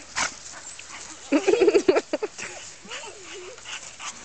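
A dog whimpers and whines in a quick run of high, thin cries, followed by softer whining under faint background noise.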